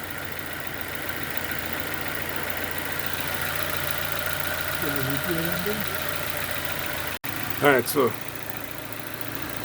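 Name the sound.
Nissan Wingroad QG15DE engine idling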